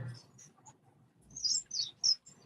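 Pet finches in an aviary giving several sharp, high chirps, bunched near the end, fairly close, with quiet low background sound beneath.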